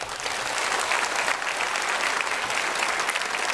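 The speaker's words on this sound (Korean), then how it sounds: "우리 렘넌트 3명 박수로 환영하겠습니다" Sustained, dense applause from a church congregation during a Sunday worship service welcoming visiting guests, steady and full-bodied throughout with no voices breaking through.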